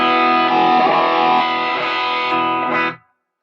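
Electric guitar played through digital amp effects: a sustained distorted chord rings loud and close for about three seconds, shifting tone partway, then cuts off abruptly.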